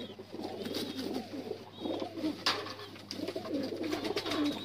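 Several pigeons coo softly and repeatedly in a loft, their low rolling calls coming in overlapping bursts close by, with quiet background noise between them.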